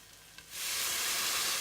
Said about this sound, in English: let's ladle some stock in